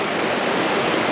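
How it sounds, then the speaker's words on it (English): A small brook in the Green Mountain National Forest, Vermont, flows in a steady, close, continuous rush of water. "I'm going to keep this little brook in mind for the future"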